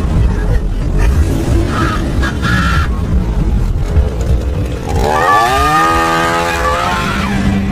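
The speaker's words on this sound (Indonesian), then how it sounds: "Tanpa disangka, tiba-tiba Dara datang dengan membawa gergaji dan kemudian" A saw roars in a scene from the 2007 horror film Dara, a loud, continuous grinding buzz that climbs in pitch near the end.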